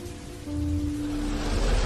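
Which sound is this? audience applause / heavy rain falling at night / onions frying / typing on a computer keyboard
heavy rain falling at night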